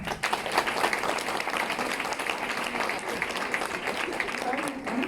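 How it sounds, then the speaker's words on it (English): An audience at a triathlon women's brunch event claps and cheers steadily and loudly, with dense applause throughout and no pause. "Let's make some noise for Nadia."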